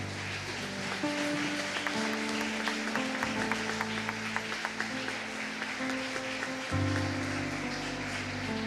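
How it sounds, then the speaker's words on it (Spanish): Congregation clapping during a Spanish-language church service, a steady patter of applause running the whole time beneath sustained organ or keyboard chords. "Dale un fuerte aplauso al Señor ahí"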